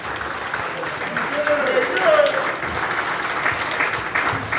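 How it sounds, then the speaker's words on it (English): Diners at a football old-guard banquet give a round of applause to players, a broad crowd clapping that swells in the middle, with some voices and cheers mixed in. "Give them a round of applause."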